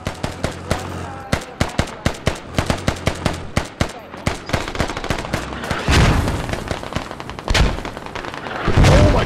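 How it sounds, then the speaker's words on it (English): Rapid bursts of gunfire crack out close and loud in a tactical shooter, then heavy mortar blasts boom and rumble, with a last big explosion near the end. "Mortar took out 5."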